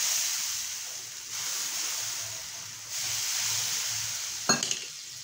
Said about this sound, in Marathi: आणि मस्तपैकी असं ढवळून घ्यायचं आहे.